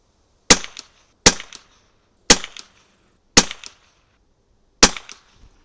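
Five sharp .22LR target rifle shots fired at irregular intervals, each a crisp loud crack with a short decaying tail, heard alone with no talking.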